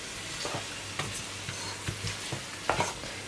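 Spices are stirred into a pot of sizzling Kabuli pulao, a spoon scraping and knocking against the pot about every half second over a steady background fry, close and clear with no talking.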